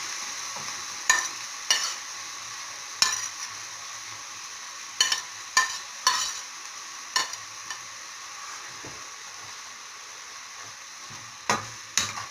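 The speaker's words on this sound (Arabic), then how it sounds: "ونبداو نحركو الكفته تاعنا في وسط البصلات" Kofta being stirred with onions in a pan, sizzling steadily underneath while sharp scraping strokes of the spoon land at irregular intervals, close and fairly quiet.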